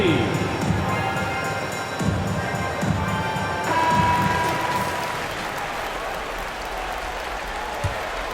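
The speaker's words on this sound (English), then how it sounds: "Nice round of applause for your 76ers" Steady applause from a large basketball video game crowd fills the arena, with an announcer's voice introducing the 76ers near the start before the clapping thins out.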